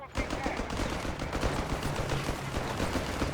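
Battle fire from M38 Beretta submachine guns in Company of Heroes 3 rattles in fast, continuous bursts layered with other gunfire, dense and steady throughout at a moderate distance.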